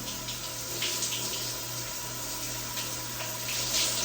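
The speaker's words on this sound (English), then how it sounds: "I let all the water flow through" Water runs steadily from a tap through curly hair during a wash routine, a close, constant rushing stream with no voices.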